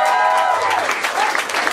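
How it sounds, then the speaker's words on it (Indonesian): Applause breaks out from the audience at a stand-up comedy show, a dense, steady patter of clapping with a raised voice or two mixed in near the start. "Tepuk tangan dong."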